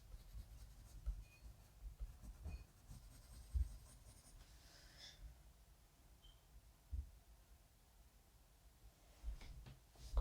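A colored pencil burnishes a drawing, giving very faint, soft scratching and rubbing strokes with occasional light taps, close and quiet with no voices.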